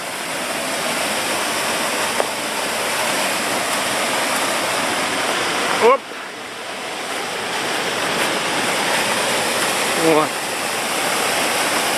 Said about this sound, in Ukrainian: ось уже водоспад і показався